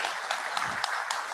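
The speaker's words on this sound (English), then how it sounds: "Big round of applause just for the time" Brief, faint applause from a resident council audience, a short patch of steady hand clapping at low level.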